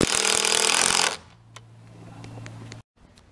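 A power drill drives screws into wooden pergola rafters, a loud close buzzing burst lasting about a second, followed by a quieter low hum with faint clicks and knocks before falling silent.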